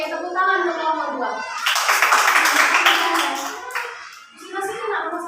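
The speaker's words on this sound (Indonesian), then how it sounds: "tepuk tangan untuk nomor 2" Schoolchildren in a sixth-grade primary class clap their hands together in a burst lasting a few seconds, close and fairly loud, with children's voices chattering before and after the clapping.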